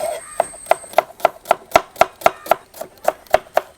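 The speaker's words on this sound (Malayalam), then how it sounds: "ചെറുതായിട്ട് ഇങ്ങനെ കൊത്തി കൊത്തി ചെറുതായിട്ട് നാം ഇങ്ങനെ അരിഞ്ഞ്" Onion chopped finely with a knife on a board for a curd salad: about fourteen crisp, evenly spaced knife strikes in a quick, steady rhythm, close and clear with no voices.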